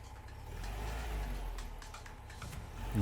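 A Volkswagen engine fitted with an 034 distributor, revving steadily with a sustained mid-pitched drone and quick throttle blips, loud and close, rising again at the end.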